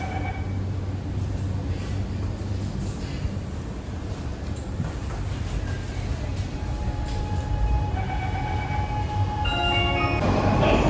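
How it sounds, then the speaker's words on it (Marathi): A Mumbai Aqua Line metro train pulling into the station, a loud continuous rumble and hum filling the whole stretch, with rising tonal whines and chimes toward the end as it slows. "इथे बघू शकता ट्रेन आलेली आहे"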